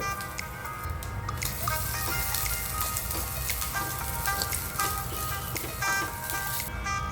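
Dried red chillies, curry leaves and grated coconut fry in a pan, with a steady close sizzle and crackle throughout and scattered sharp pops over a continuous bed of noise.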